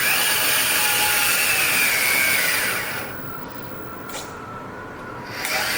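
Motor of a 1/14-scale RC 4x4 Unimog U535 running in third gear of its three-speed transmission, a loud high-pitched electric whine for about three seconds that then drops to a quieter hum.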